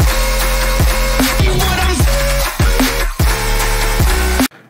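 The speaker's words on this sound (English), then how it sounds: "the main lead bass, and I'll play it for you if you need a refresher." Main lead bass of an electronic track, made in Serum, within the full mix: loud gritty synth bass stabs over thumping kicks and downward pitch sweeps, cutting off abruptly at the end.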